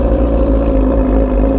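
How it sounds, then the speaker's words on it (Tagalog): A sportbike with a loud exhaust revs in heavy traffic in Dagupan City, giving a brief, close, sustained engine roar that stays at an even, high volume. "Grabe yung exhaust naman yan."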